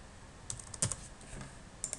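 Keys on a computer keyboard tapped while entering a password, a few quiet scattered clicks with short gaps in a still room.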